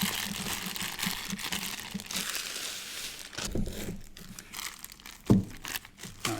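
Crinkling and crunching of plastic packaging as a Nebia by Moen shower system is unboxed, close and fairly quiet, with steady rustling, a pause near the middle and a sharper crackle toward the end.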